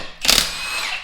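An impact wrench fitted with a chrome socket fires one short, loud burst while removing large wheel spikes from a Turbo Avalanche truck, then a faint ringing hum lingers.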